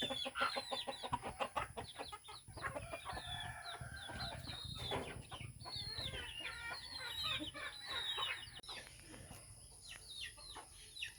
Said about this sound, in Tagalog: Yung mga manok umaalis, natatakot sa akin.